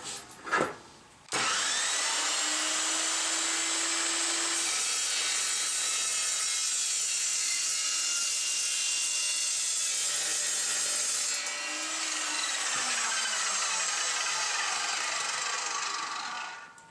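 An Evolution Rage 2 metal saw cuts through metal stock, a loud, steady high-pitched whine lasting about fifteen seconds with slight dips in pitch as the blade loads, then winding down at the end.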